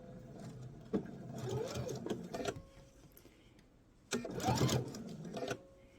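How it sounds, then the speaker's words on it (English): A sewing machine stitching a quilted mug rug runs in two bursts of rapid whirring, close and moderately loud, with a quiet pause between them. "I'm just going to do like 3-4 stitches and then pivot."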